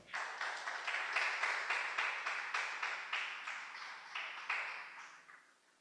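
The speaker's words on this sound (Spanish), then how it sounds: "Denle un aplauso al Señor." Church congregation clapping during a Spanish-language sermon, a steady rhythmic beat of joined handclaps at moderate distance, fairly soft and evenly paced before fading out.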